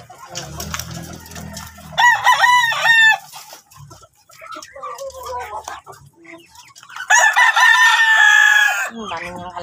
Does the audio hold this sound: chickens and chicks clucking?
yes